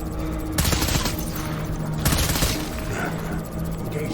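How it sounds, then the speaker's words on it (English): Gunfire in a firefight from the video game Death Stranding, with two sharp loud bursts of shots over a steady background din, each trailing into a rumbling tail. "Enemy fire."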